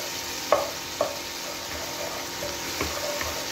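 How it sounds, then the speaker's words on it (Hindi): Onion with ginger garlic paste frying in a pan: a steady soft sizzle with a handful of sharper spoon scrapes and stirs at irregular intervals, close by, no talk. "अदरक लहसुन को अच्छी तरह से तल लेंगे"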